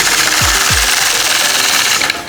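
Sewing machine running continuously while free-motion quilting a blade fan design with a ruler, a fast steady mechanical whir and needle chatter, slowing briefly near the end.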